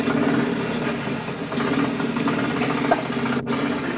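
A Wall of Death stunt motorcycle engine runs at a steady, close idle, a continuous low rumbling throb with no voices over it.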